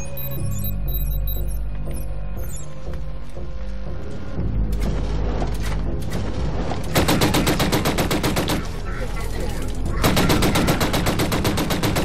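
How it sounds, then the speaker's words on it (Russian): Rapid automatic gunfire in Killzone Shadow Fall, long loud bursts of closely spaced shots after quieter scattered shots and background game noise. "Уже стреляет так. Винтовка снайперская, да?"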